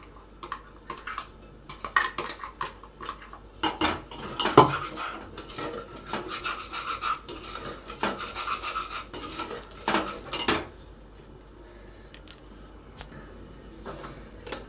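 Food stir-fried and mixed in a pan, with steady scraping and rubbing of a spatula against the metal, frequent clinks, busy through the middle and easing off toward the end, with no voices.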